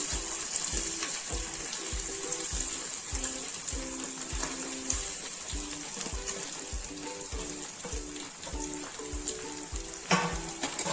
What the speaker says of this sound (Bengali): এই যে দেখো চালটা আমি 5 মিনিটের জন্য ভেজে নিচ্ছি